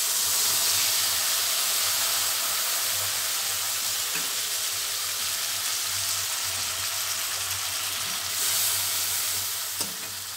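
Mustard paste and mustard water sizzle and hiss continuously in a hot frying pan over spices, with a steady bright crackle and occasional soft stirring clinks, and no talking.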